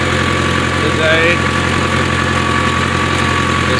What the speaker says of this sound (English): to sit on this tractor